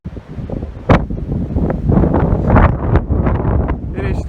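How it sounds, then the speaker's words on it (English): Strong gusty storm wind on a farm during Storm Eunice buffets the microphone in loud, roaring bursts, with rustling throughout. "It is still windy."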